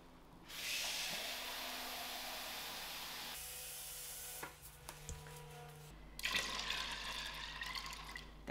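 A liter of water pouring from a jug into a Bennett Read Super Chef 6 pressure cooker with a steady hissing splash, a short pause with drips, then pouring again, at close range with no talking.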